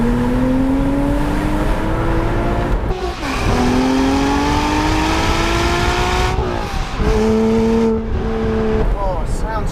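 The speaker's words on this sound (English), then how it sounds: "This has got a sports exhaust, but it's factory fitted." Factory-fitted sports exhaust on a Porsche Boxster Spyder (987) revving hard, the engine note rising through several climbing pulls with brief breaks between them, loud and close.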